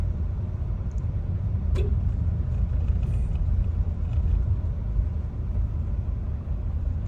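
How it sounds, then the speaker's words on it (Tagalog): A JNT delivery truck pulls away, its steady low engine rumble holding throughout at moderate distance, with a brief sharp knock near the middle and no one speaking. "Ayan na yung truck ng JNT"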